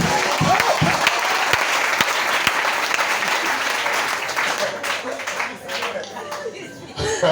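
A church congregation claps and cheers in praise during a French-language worship service, a dense sustained round of applause with scattered voices and chuckles that swells and thins slightly toward the end.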